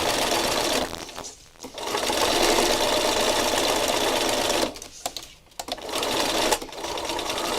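A sewing machine stitches rows across painted fabric, running in loud, steady bursts with two short pauses in between.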